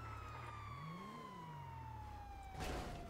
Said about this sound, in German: Mach die Sirene aus. Sirene aus.